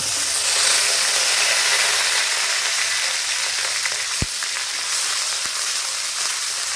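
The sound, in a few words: mustard paste sizzling as it is added to hot oil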